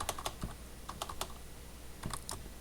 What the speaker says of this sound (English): typing is still the hard part for me